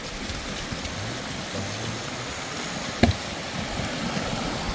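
Rushing floodwater on a farm during a flood, a steady broadband roar of flowing water that holds constant throughout, with one brief knock partway through.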